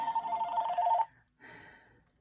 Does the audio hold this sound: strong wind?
no